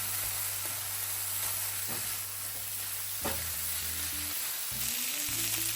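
Tomato added to potato curry frying in a pan, a steady close sizzle with soft scrapes of stirring and a low background hum throughout.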